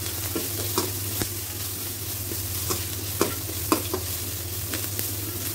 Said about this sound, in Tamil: நல்லா கோல்டன் ப்ரௌன் வர வரைக்கும் வறுத்துக்கோங்க